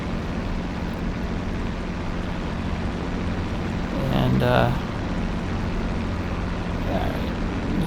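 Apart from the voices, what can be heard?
P-51D Mustang engine revving in video game DCS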